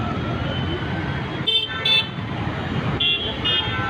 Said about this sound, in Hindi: रास्तों पे ट्रैफिक देखिए,